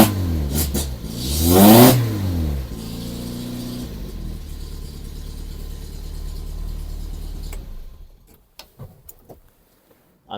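Buick Regal engine close by, a sharp rev swelling then settling into a steady smooth idle, before cutting to near silence with a few faint clicks at the end.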